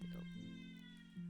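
An old cat with dementia gives a single drawn-out meow close by, faint and steady over a quiet background, with no talking.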